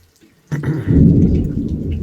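After a brief quiet moment, heavy rain suddenly roars in, loud, dense and steady, with a deep rumbling undertone.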